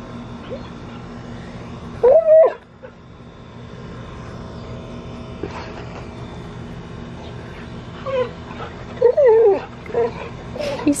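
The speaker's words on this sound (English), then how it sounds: "we have this little pool in our backyard, and Hoosier barks at the bubbles." In a backyard with a small pool, a dog lets out a few short, whiny barks and yelps, spaced across the clip over a steady background hum.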